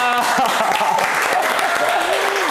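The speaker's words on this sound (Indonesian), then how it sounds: "Tepuk tangannya mana?" A crowd claps for a guest on an Indonesian talk show in Kupang, steady applause held under a host's loud, sing-song voice throughout.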